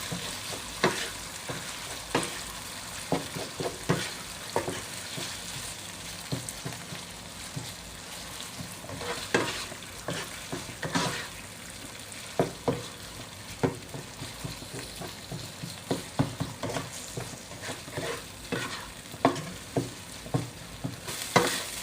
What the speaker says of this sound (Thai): ผัดไปจนกว่าจะแห้งค่ะ